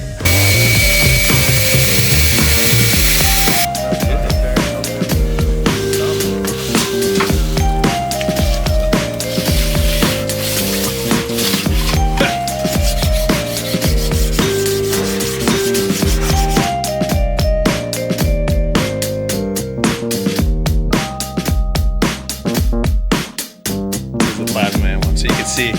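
A CNC machine cuts a ring dowel hole in an RB26 cylinder head, a repeated cycle of rising whining pitches and grinding rubs that sounds close and loud throughout.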